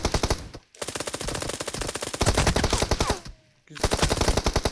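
Pistol gunfire from PUBG Mobile: loud, rapid bursts of shots close up, separated by two short silent gaps, with no talking over them.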